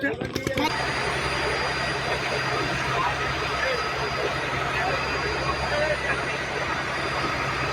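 A fishing trawler's engine drones steadily at sea during a hilsa fishing trip, a constant low, humming rumble after a brief clatter at the start, loud and unbroken throughout.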